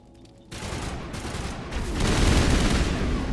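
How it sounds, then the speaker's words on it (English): Gunfire in a video game: a sustained, loud barrage of overlapping shots that swells louder toward the end, with no voices. "I'm just trying to make it so that the gunfire isn't nearly as insanely loud as it is."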